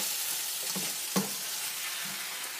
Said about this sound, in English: I am going to come over and stir my cabbage, because this is getting nice and done.